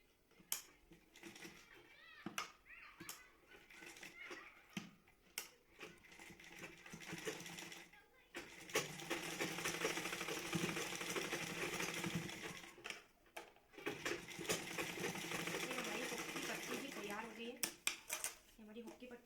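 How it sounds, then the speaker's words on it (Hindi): A sewing machine stitches along the folded edge of a blouse, running in two sustained bursts of steady mechanical whirring, close and fairly loud, separated by pauses with lighter clicks and handling. "फिर मशीन चलाएंगे इसके ऊपर से किनार पर से"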